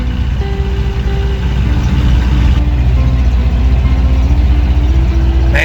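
A Chevrolet El Camino engine runs through its new exhaust while on the move, a loud, deep, rumbling drone with shifting tones as it pulls, steady and close throughout with no talking.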